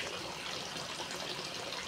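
Water gushes steadily from the filtration supply pipe of an aquaponics celery setup, a constant close splashing flow with no talking.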